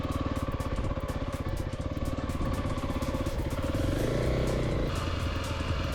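Kawasaki KLX300 dual sport motorcycle with a 13-tooth front sprocket, its single-cylinder engine thumping steadily at low revs while ridden and lugged in second gear, loud and close with a rapid even pulse and no speech.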